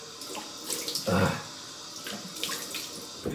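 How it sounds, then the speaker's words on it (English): Tap water runs and splashes in bursts as a face is washed at a sink, fairly quiet and close, with irregular surges of water noise. "Okay, I'm gonna wash my face off."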